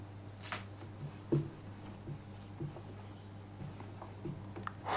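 Chalk or marker writing on a board during a physics lesson, soft scratchy strokes and light taps in short irregular bursts, faint and close, over a low steady background hum with no talking.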